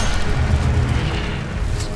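A fire spell cast in the Hogwarts Legacy video game gives a loud, sustained low booming roar with a whooshing rush, steady throughout and fading slightly near the end.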